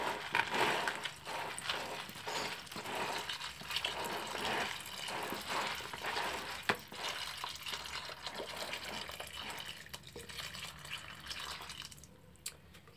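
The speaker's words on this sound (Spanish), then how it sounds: "Entonces vamos a echarles el agua." Water poured onto tiger nuts in a container for cooking as fishing bait, a continuous close splashing and gurgling stream that runs for many seconds before tapering off.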